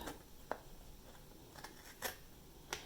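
Scissors cut paper flaps up to a score line in a papercraft project, heard as a few faint, sharp snips spaced irregularly over quiet room tone.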